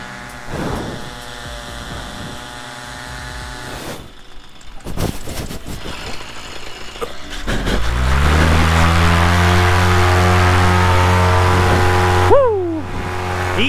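A paramotor engine revs up hard for a low-wind launch and holds a loud, steady drone with rising harmonics, after earlier scattered knocks and handling noise; a brief pitch dip comes near the end.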